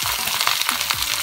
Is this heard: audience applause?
no